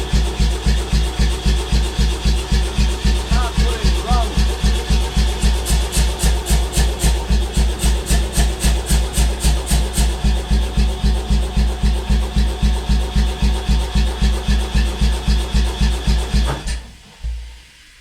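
A 60kg air hammer, faulty with a jammed side valve, starts up and pounds in a fast, steady rhythm of loud repeated blows for about sixteen seconds before winding down and stopping.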